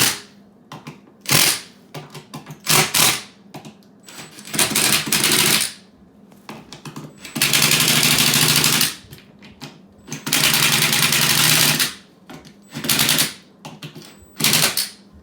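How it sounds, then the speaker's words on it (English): Screws driven into drywall while patching a hole, heard as repeated close, loud bursts of a power driver whirring and clattering, with short sharp clicks and pauses between runs. "So I'm putting in 5 screws, and then I go back, gently tighten these a little bit more."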